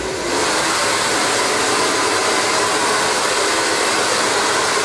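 A hair dryer switches on and blows steadily while a man gets ready for a party, its loud, even whooshing roar filling the clip without pause.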